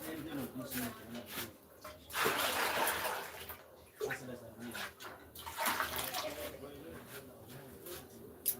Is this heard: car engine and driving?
no